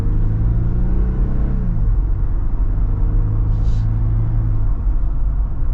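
A 2023 Jeep Wrangler High Tide on 35-inch tires drives around town, its engine giving a loud, steady low rumble from inside the cabin with one brief shift in pitch as it changes speed.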